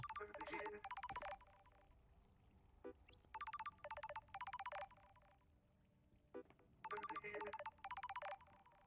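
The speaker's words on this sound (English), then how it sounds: "you should be hearing this ringing" Bursts of electronic ringing tones repeat in short trills with pauses between, alongside a few brief chimes and clicks, fairly faint, in the video game Paradise Killer.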